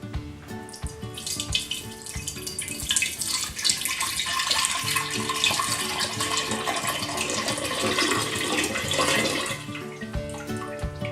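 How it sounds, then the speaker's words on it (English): Lemon juice poured carefully through a fine strainer into a pitcher, a continuous close trickling, splashing flow that runs for about eleven seconds with no talk. "And just ever so carefully, I'm going to pour it right in."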